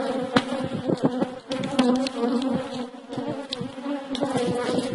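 Honeybees swarm around an opened beehive during an inspection, making a dense, close buzz that hums continuously with fluctuating intensity.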